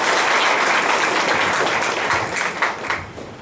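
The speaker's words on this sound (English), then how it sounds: "a very good round of applause" Enthusiastic applause from a large crowd at a seminar on jobs in multinational companies, dense steady clapping that fills the room before tapering slightly near the end.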